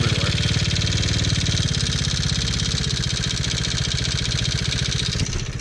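A worn TaoTao 110cc engine with heavy blow-by runs close by in a loud, steady, pulsing chug. It keeps running evenly throughout and is heard alone.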